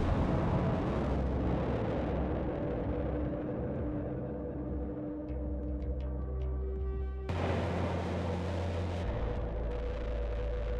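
Car explosions in the video game Children of the Sun, a sustained loud roaring rumble with crackling debris, cutting abruptly into a deep lower drone, with no talk over it.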